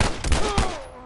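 A burst of gunfire from The Last of Us remake video game, loud and close, several overlapping shots fading quickly within about a second.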